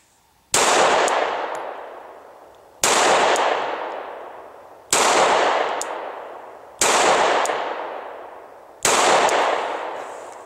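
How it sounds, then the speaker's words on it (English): Five single shots from a Glock 17 Gen 4 pistol with 115 grain factory reloads, fired at a 25-yard range, each a loud sharp crack with a long ringing decay, spaced about two seconds apart with no talk. "I'm going to try to get some accuracy going here. I'm shooting some 115 grade factory reloads."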